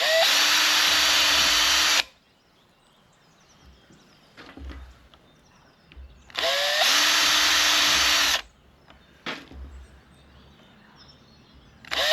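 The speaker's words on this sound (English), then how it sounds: "I'm dividing them into two with a small knife and then drilling a hole in each one." A power drill bores holes in small bird-shaped Christmas decorations for a garden, in two loud, steady whirring runs of about two seconds each, with quiet handling clicks between them.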